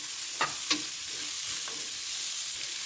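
Carrots are stir-fried in a pan: a continuous hiss of frying with a few sharp spatula scrapes early on, then quieter tossing sounds.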